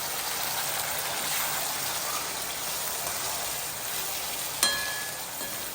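Tomato gravy for pav bhaji sizzles steadily in a pan, a continuous close frying hiss with one brief sharp clink partway through and no talking.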